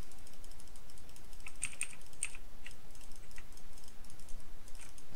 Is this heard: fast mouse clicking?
yes